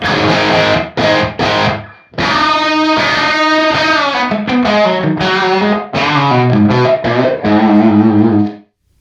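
Guitar played through a reverb effect set to maximum gives loud, distorted chords that ring out and hang in a small room-like space between strums.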